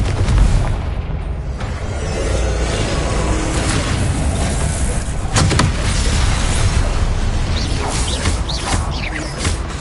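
Confringo blasting spell explosions in Hogwarts Legacy: loud, continuous booming blasts and crackling impacts layered over game rumble, with sharp bursts recurring throughout.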